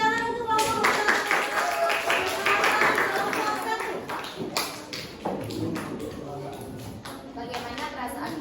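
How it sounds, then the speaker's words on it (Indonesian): A classroom of students claps together for group 1 during a class guidance session, a dense, steady patter of many hands that carries on for several seconds with voices mixed in and fades slightly toward the end. "tepuk tangan untuk kelompok 1"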